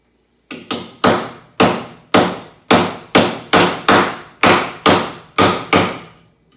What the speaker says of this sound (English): This is a nice hammer, I like it.